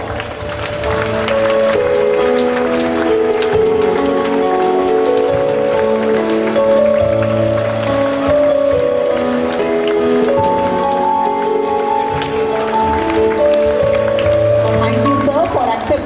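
An audience at an Independence Day felicitation of a retired IPS officer keeps up steady, rain-like clapping throughout, with a tonal melody playing underneath.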